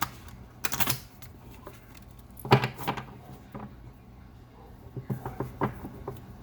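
Several short bursts of papery riffling and soft tapping, spaced irregularly with quiet pauses, like a deck of cards being shuffled up close.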